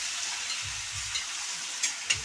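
Beef sizzling in a pan over a wood-fired stove, a close steady hiss and crackle with low thuds of the meat being stirred and a couple of sharp utensil clinks near the end, no talk.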